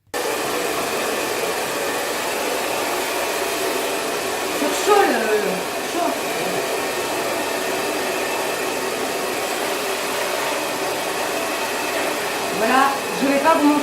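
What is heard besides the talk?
hair dryer blow-drying hair during Brazilian straightening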